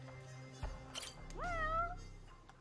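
A cat meows in the video game Judgment, one drawn-out rising and falling meow that stands out clearly over quiet game background, preceded by a few soft clicks.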